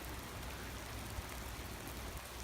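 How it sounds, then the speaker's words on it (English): Steady rain falling through green woods, a soft continuous hiss of drops on leaves and ground, even and fairly faint, with no voices. "We're in the middle of the woods, walking through the rain."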